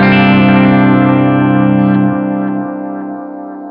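A digital guitar delay on a Line 6 Helix or Strymon Timeline rings out a sustained, loud chord whose repeats trail off gradually, with feedback stretching the echoes over several seconds.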